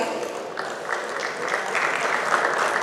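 An audience at an ENT annual conference applauds steadily, with a dense wash of clapping and a few sharper claps standing out near the front.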